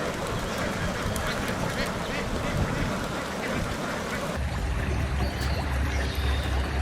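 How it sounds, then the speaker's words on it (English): Ducks in a flock quack in a busy, overlapping chorus, with some water or engine-like rumble mixing in during the latter part. "this is a flock of ducks"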